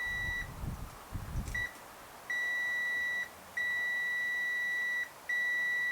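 A Zotek ZT219 multimeter gives continuity beeps while probing a coil: a few steady, clear tones that start and stop repeatedly, some short and others lasting about a second, after low handling thumps at the start.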